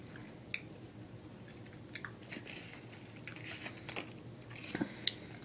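Starburst FaveREDs chewy candy being chewed close up, with soft sticky mastication sounds and a few small crisp clicks over several seconds, no talking.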